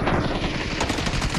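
Rapid automatic gunfire from an M416 rifle in a shooting video game, a loud continuous burst of close shots filling the whole brief moment.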